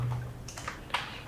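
Keys tapped on a computer keyboard while HTML for a Laravel Blade template is entered, a few sharp, close clicks in an uneven rhythm over a low background hum, with no voice.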